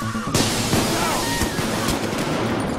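Gunfire in the video game Payday 2, a dense stream of shots over a loud noisy game backdrop with several sharper bursts and muffled voices underneath.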